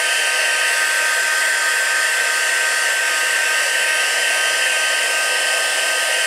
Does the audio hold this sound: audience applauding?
no